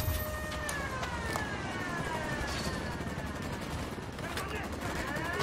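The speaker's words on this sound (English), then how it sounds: "I'm opening fire on these shitheads." Gunfire in the video game Ghost Recon Wildlands: steady, dense shooting with a rising and falling siren-like tone running throughout, loud and continuous for the whole stretch.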